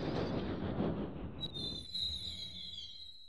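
A train in a Mario Party 4 minigame rumbles along in a video game. The rolling noise fades out as a bright, high metallic squeal rises and rings on alone.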